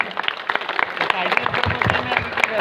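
A crowd gives loud, enthusiastic applause at a community felicitation ceremony honouring 10th, 12th and graduate students. The claps sound close and dense, and voices and cheers mix in throughout.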